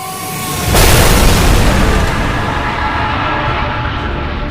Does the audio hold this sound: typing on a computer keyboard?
no